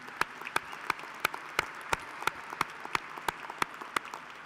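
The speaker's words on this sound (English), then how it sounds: "Let's give a round of applause for Mandy and the rest" Audience applause at a university ring ceremony, steady crowd clapping with loud, regular individual claps punctuating it every fraction of a second, sustained evenly throughout.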